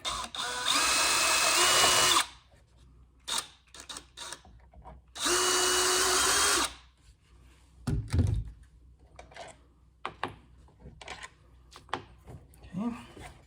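Power drill backing screws out of the 1969 Glasspar Tacoma 14 boat's remote control housing: two loud sustained whirring bursts of about two seconds each, followed by scattered clunks and handling noises of parts being moved.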